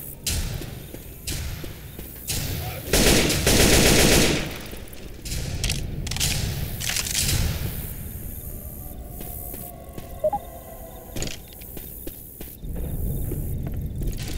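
Gunfire in a zombie apocalypse video game, heard as dense bursts of rapid shots with thumps and footsteps, loud and near, easing into scattered single shots toward the end.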